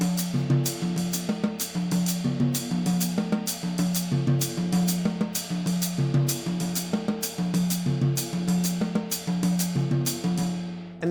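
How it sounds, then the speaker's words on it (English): A jazz drummer plays steady left-hand strokes that move between the snare drum and two toms, giving a busy, continuous pattern of close, bright hits over ringing drum tones, with no talking. "I'm going to play those left hand strokes between the snare drum, the first tom, and the second tom."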